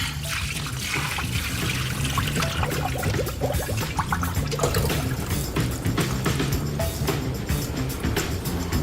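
Tap water runs hard into a kitchen sink while fresh chicken is washed under it, a loud, continuous rushing splash with irregular spattering as the pieces are handled, steady throughout.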